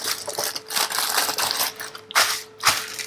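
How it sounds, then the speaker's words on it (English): Plastic bag being cut and pulled off a GoPro Hero 8 retail box, a dense run of crinkling and rustling with sharper crackles near the end, close and fairly loud, with no talk. "Cut this very nice plastic bag off."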